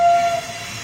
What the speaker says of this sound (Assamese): দোস্ত ৰাজধানী ট্ৰেইন হয়।